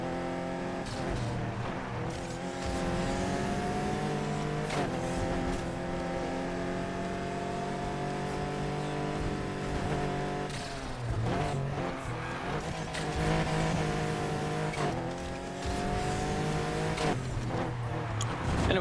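McLaren P1 GTR race car in the video game NFS Heat, engine droning loudly and steadily with pitch rising and falling through gear changes, plus brief tire squeal, no talk.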